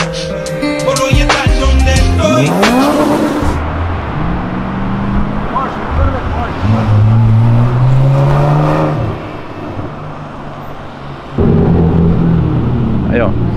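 Toyota Corolla exhaust roaring on a city avenue: loud revs sweep upward, then a droning engine note climbs and holds, drops away briefly and returns strongly, with a voice heard near the start.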